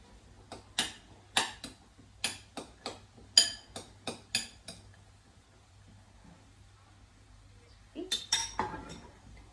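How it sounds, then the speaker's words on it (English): A spoon clinks against a bowl while jackfruit taco filling is mixed with chipotle paste and chopped coriander stalks: a quick series of sharp ticks, a pause, then another burst of taps, all nearby and without speech. "Give it a good mix."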